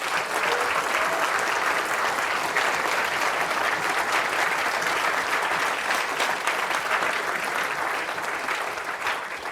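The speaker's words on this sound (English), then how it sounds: "can you give them a big round of applause as well?" Audience applause at a university library conference, a dense, sustained round of clapping from a large crowd, loud and even throughout, easing slightly at the end.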